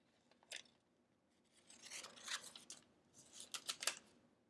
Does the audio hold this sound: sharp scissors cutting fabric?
yes